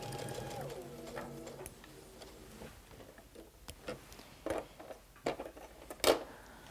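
A sewing machine stitches a quilt seam right to the end and onto an anchor cloth, a steady close mechanical whir for the first seconds, then stopping, followed by scattered soft handling clicks and taps.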